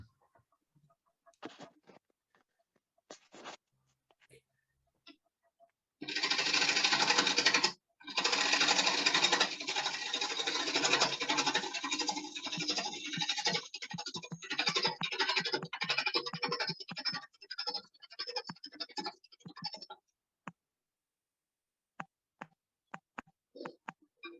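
A wood lathe hums and scrapes as a tool cuts a tenon, a steady rough whirring that runs for about fourteen seconds between quiet stretches with scattered faint knocks.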